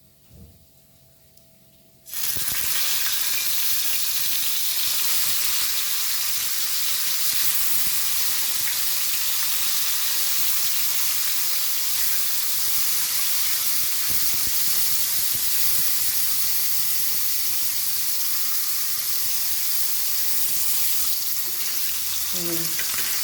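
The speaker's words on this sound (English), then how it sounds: "So I have taken around 2 tablespoons of mustard oil to fry my curry pieces" Hilsa fish curry pieces frying in mustard oil give a loud, steady, close sizzle. It starts abruptly after a short quiet moment and hisses on without a break.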